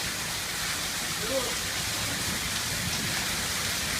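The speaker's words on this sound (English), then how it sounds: "Sal, do you love the rain" Steady rain falling outdoors makes a constant broadband hiss with a soft, continuous patter, partly under a faint voice.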